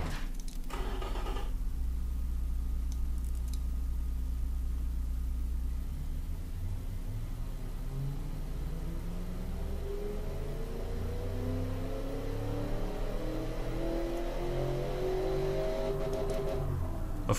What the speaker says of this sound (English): this engine is going to be pretty quiet, since it is a Volvo after all